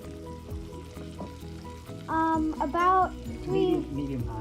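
Japanese Wagyu beef sizzles and fries over medium-high heat with a soft, steady crackle, partly under people talking nearby.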